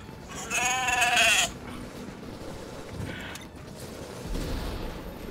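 A goat in the video game The Division lets out one loud, quavering bleat near the start, followed by mechanical creaks and clatter in a noisy game environment.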